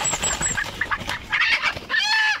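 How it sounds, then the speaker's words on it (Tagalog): A labuyo, a small and very wary Philippine wild jungle fowl, calls in a rural setting with repeated clucking and squawking bursts, near and fairly loud, over a busy outdoor background. "Ito tinatawag na labuyo mga kabukid."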